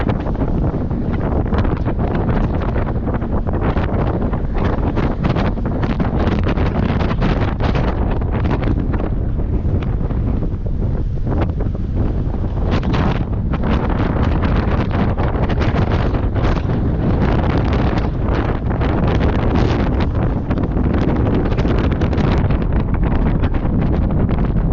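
Strong desert wind buffets the microphone in a constant loud roar with gusting rustle throughout, alone with no voices.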